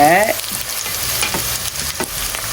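Onions sautéing in a pan for a crab curry, a steady loud sizzle and frying hiss with occasional stirring scrapes, close and continuous, with no talking.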